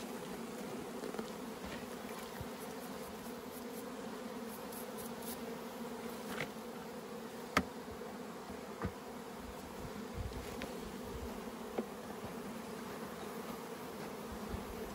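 Honey bees buzz continuously in a low, steady drone, with occasional individual bees passing close by.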